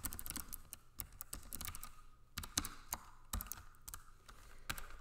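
Fingers tap quickly on a computer keyboard, producing irregular clusters of soft clicks at close range, fairly quiet, with no talking.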